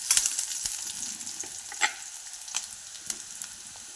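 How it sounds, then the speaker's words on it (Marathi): Curry leaves sizzle and crackle in hot oil in a pan with onion already fried pink, and a spoon stirs them, scraping and tapping now and then over the continuous close frying hiss. "कढीपत्ता टाकून घ्यायचा. तो पण असा हलवायचा."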